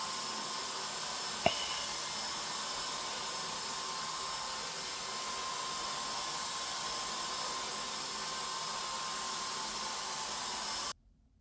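A paint sprayer coats kitchen cabinets in a basement, giving a steady, quiet airy hiss that runs without a break. A brief click sounds near the start, and the hiss stops abruptly at the end.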